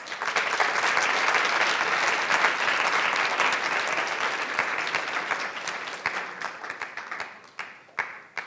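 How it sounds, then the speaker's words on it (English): A large audience gives a sustained round of applause at a Habitat for Humanity presentation, dense and loud clapping that holds steady, then thins into scattered claps as it fades out. "Let's give them a round of applause."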